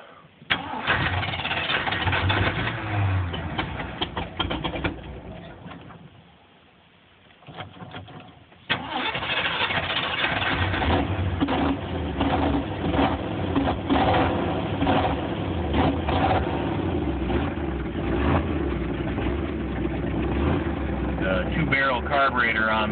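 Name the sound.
engine with two-barrel carburetor starting and idling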